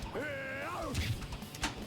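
A cat gives a drawn-out meow with a rising and falling pitch, close by, followed by faint thuds and bumps in a room.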